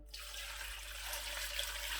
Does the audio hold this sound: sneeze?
no